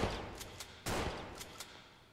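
Shotgun blasts in a free video game shooter, several sharp reports spaced through the clip, with one heavier, louder boom in the middle and fainter shots on either side.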